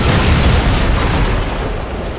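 A heavy explosion in the video game Dragon Age Inquisition: Trespasser booms loud and close, a deep rumbling blast that fills the whole moment and slowly tails off without any speech.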